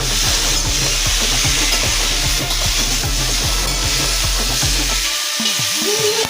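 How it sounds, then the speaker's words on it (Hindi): Potato and onion frying on a wood-fired clay stove, a steady close sizzle with regular scraping stir strokes about twice a second, then the stirring stops and the fry keeps hissing alone. "अभी मैं सब्ज़ी बना रहा हूँ, आलू प्याज भूज रहा हूँ।"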